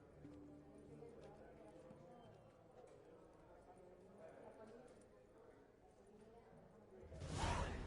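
Horse hooves clip-clop steadily at moderate volume in a PS4 video game, with talking throughout and a louder whooshing burst near the end.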